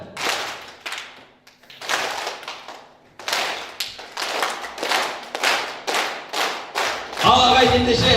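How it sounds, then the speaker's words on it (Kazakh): Guests at a 50th birthday party clap together in repeated bursts of rhythmic applause, loud and close, with a pause between each round, before music starts at the end. "Мен қолымды біткен кезде бірлес шапалақ соғыңыздар."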